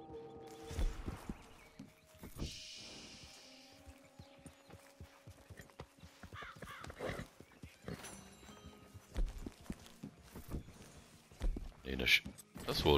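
In Red Dead Redemption 2 online, a horse walks with uneven, close hoofbeats, along with occasional snorts and soft game ambience, with louder thumps toward the end.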